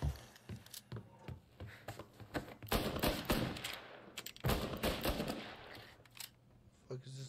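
Rapid gunfire in Mafia Definitive Edition on PS5, bursts of machine-gun and pistol shots cracking in uneven volleys, loud and close, with dense shooting swelling near the middle.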